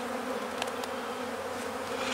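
Honeybees drone steadily around a failed hive full of dead bees where robber bees are taking the food, a continuous close, low buzz with no voices.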